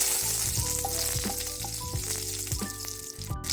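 Curry leaves and other tempering spices sizzle and crackle steadily in hot oil for a Tulu-style dried salted jackfruit (uppad pachil) stir-fry, a continuous close frying hiss with occasional stirring clinks, no talking.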